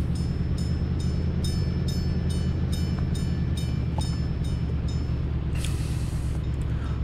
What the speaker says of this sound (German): Und dann sehen wir gleich mal Pendelverkehr mit zwei Zügen